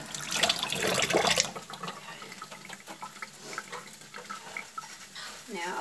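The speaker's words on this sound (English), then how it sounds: "Wash my hands." Hands are washed under a running kitchen tap, with a loud gush of water for about a second and a half, then quieter splashes and rubbing sounds as the flow eases.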